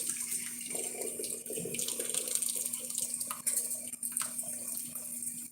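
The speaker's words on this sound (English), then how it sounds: "Now I'm just gonna go ahead and pour the hot water." Hot water runs from a tap into a sink in a steady, hissing gush with splashing underneath, alone and close, during a doll repair.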